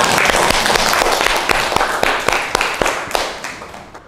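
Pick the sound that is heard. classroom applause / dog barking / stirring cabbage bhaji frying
classroom applause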